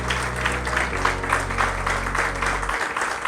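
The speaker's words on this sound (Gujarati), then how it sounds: "એક વખત કેતનભાઈ રાવલ માટે પહેલા જોરદાર તાળીઓ થઈ જાય." Audience applause at a business networking event, a steady wash of clapping from a crowd filling the room, with a low hum underneath that cuts out near the end.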